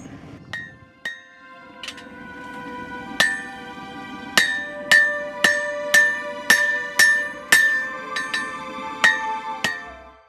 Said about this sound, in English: I'll use a fuller on a striking anvil and having a striker with a heavy sledge to draw out the leaf spring to its final length